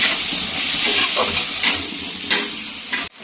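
Onions frying lightly in oil for cheese pasta, a steady close sizzle with stirring scrapes, running alone until it cuts off abruptly near the end.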